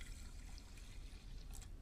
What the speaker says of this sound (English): put the rice into a saucepan and pour in just enough water to cover the rice